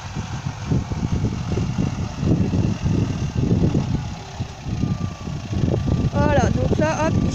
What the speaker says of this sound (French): là, il arrive avec le tracteur, il va charger sur la remorque.